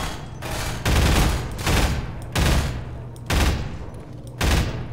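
Rapid bursts of automatic gunfire in the Half-Life 2 mod Minerva: Metastasis, five loud sustained volleys with brief gaps between them, close and dense, no talking over it.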